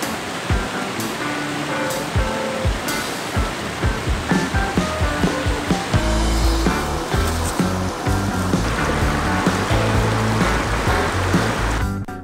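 Creek water rushes and babbles steadily along a hiking trail, a dense continuous flow close by with no voices.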